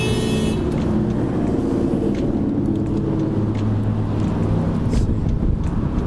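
A car drives hard toward a stoplight, its steady engine and road rumble loud and close throughout, mixed with wind buffeting at the microphone.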